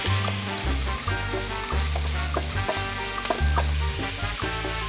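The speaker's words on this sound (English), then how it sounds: "let's saute it in the same pan that we had our meat. Add a little oil to the pan, and we're gonna sweat this down." Vegetables sautéing in a little oil in the same pan used for the meat for chili con carne, producing a loud, constant close sizzle with occasional stirring knocks, no one speaking.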